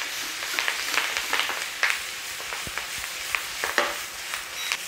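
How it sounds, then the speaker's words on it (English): Greens fry in oil in a hot pan, giving a close, continuous sizzle and crackle with scattered pops and light scraping. "Just trying to fry them off a bit."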